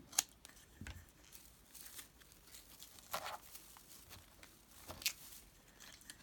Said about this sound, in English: they do have tags on them that we'll just cut off